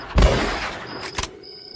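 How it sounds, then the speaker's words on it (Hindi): Pistol shots ring out in a spoken horror story: one heavy, booming blast, then sharper cracks about a second later, followed by a thin lingering ring. There is no talking. "कमर में लगी पिस्तौल निकाली और 4 गोलियां उसके सीने में दाग दी"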